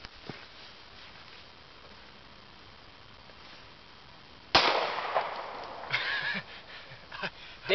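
A single Golden Saber hollow point round fires outdoors as one sharp, loud crack over a steady background hiss, followed by a few fainter knocks and rustles.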